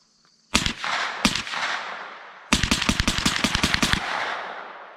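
A Ruger PC Carbine fires suppressed rounds outdoors, two single sharp cracks followed by a rapid string of about a dozen shots, loud and close, with no talking.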